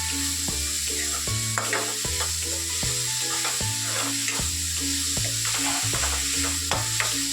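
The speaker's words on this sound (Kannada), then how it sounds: "ಇದು ಚೆನ್ನಾಗಿ ಫ್ರೈ ಆಗಬೇಕು." Finely chopped onions frying for egg bhurji sizzle steadily in a pan, with repeated scraping stir strokes in an even rhythm close by.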